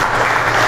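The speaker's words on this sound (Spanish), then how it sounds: "¿Cuánto le dan un aplauso al Rey?" Applause from a church congregation during a Spanish-language sermon, a brief, loud, dense burst of clapping filling the whole moment with no voices on top.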